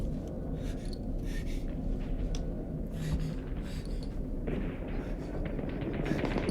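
Gunfire from a World War II battle scene in the war film Saving Private Ryan: dense, continuous bursts of shots and explosions roar throughout, loud and unbroken over a heavy rumbling background.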